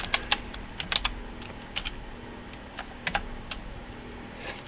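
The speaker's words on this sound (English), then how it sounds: "we're going to just type in unique" Someone types a formula on a computer keyboard into an Excel spreadsheet: a quiet, irregular run of separate key clicks in short clusters, with no voices.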